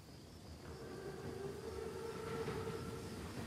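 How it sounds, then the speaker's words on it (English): A World War II armored train approaches in a Call of Duty WW2 game scene, a faint, steady low rumble of rolling rail cars with a thin tonal whine above it. "Train's right on time."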